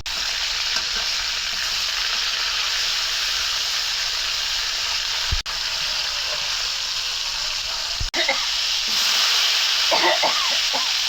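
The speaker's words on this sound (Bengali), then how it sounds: "রুই মাছ ভাজি করতেছি।" Rohu fish fries in hot oil with a loud, steady sizzle and hiss close by, broken by a couple of brief stirring knocks and some scraping near the end.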